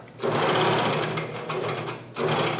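A Janome CoverPro 1000 coverstitch machine sews knit fabric with a loud, fast, steady motor hum and needle chatter, running for about two seconds, pausing briefly, then starting again.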